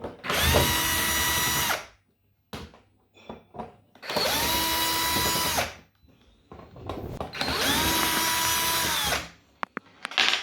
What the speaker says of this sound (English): I will now take it out using this screwdriver here.